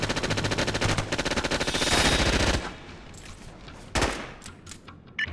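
Gunfire in the Navy SEALs video game SOCOM Fireteam Bravo: a rapid automatic burst rattles for a couple of seconds, then after a pause come a few sharper isolated shots at a distance.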